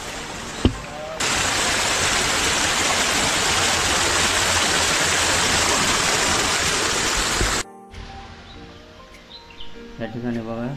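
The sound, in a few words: water flowing over a small stone check dam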